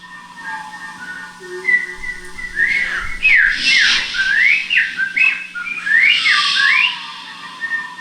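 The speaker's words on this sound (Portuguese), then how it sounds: "Ele ouvia som de pássaros." Bright, swooping bird-like whistles and chirps repeat in rapid, rising and falling phrases over a low steady hum, loud and close throughout.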